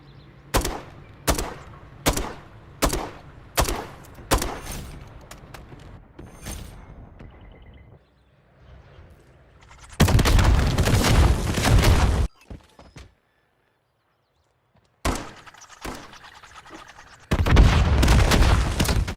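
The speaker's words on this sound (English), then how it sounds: "you're just going to shoot your tube each time as you're walking backward" Spawn-tube shots fired while walking backward on the Quarry map in Modern Warfare III: a loud, close run of evenly spaced sharp reports, then heavier sustained bursts of gunfire separated by short silences.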